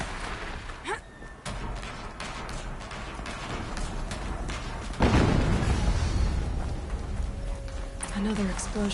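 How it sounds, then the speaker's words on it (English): A second video game explosion hits midway as a loud, broad boom that rumbles on, over a constant backdrop of game noise and brief talk. "Another explosion."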